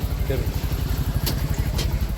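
An auto rickshaw engine idles nearby in Velankanni, India, with a steady, low, pulsing putter, loud and continuous, with faint street noise around it.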